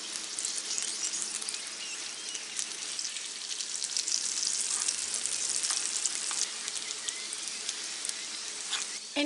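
Potato tacos frying in oil in a pan, giving a continuous close crackling sizzle with small pops, steady and alone throughout.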